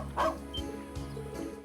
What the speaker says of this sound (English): All he did was bark.